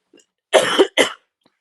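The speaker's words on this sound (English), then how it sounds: "It's just gone straight to a cough." A couple of harsh, hacking coughs close to the mic, one rough burst followed quickly by a shorter second, then quiet.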